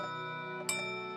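A cartoon clock chimes once, a bright metallic bell strike with a ringing decay over a steady background hum, alone with no talking.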